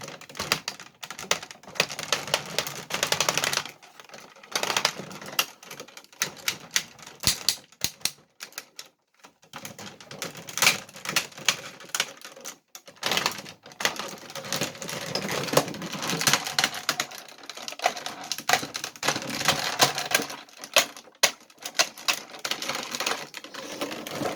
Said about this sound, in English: We all know that nice clicky ratchet sound.